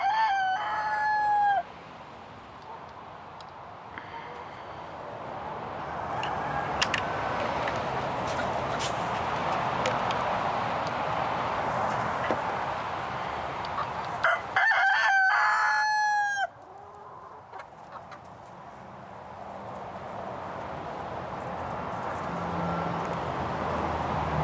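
Chickens on a homestead crow repeatedly, a rooster's call rising twice above steady clucking and farmyard ambience over about twenty-five seconds.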